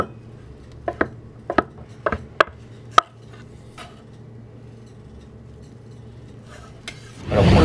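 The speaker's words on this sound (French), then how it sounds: "Alors les œufs, une fois écalés, on va les hacher grossièrement avec le couteau de truffe, bien sûr." Peeled eggs being coarsely chopped with a truffle knife on a board: a run of sharp, close knife strikes in the first three seconds, a few softer taps after, then a brief rustle at the end.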